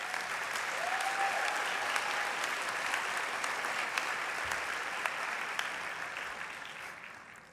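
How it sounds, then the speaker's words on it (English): Audience applause fills a graduation convocation hall for a business school, steady and sustained clapping from a large crowd that fades slightly toward the end, with no talk over it. "You deserve some applause too."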